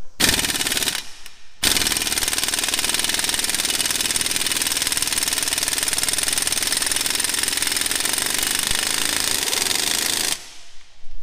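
Air impact wrench, Snap-on or Harbor Freight, running wide open with the air gauge turned all the way up: a loud continuous rapid hammering rattle after a couple of short bursts, cutting off near the end.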